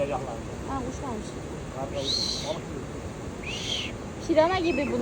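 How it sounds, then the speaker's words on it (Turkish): A bird calls in short repeated bursts near the Düden waterfalls, set against steady rushing water noise and people talking nearby. "Ha, kuş varmış."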